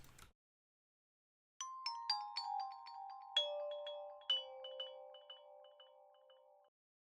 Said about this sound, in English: the following sound that I added after the guitar was this glockenspiel sound